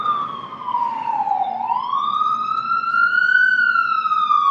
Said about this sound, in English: I never could tell where the ambulance is coming from.